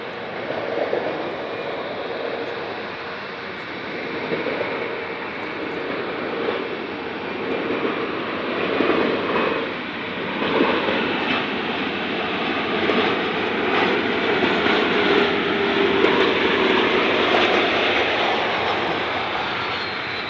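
Jet aircraft engines roar continuously at Munich Airport, a loud, broad, steady rumble and whine that swells gradually over twenty seconds, heard from fairly close with no talking.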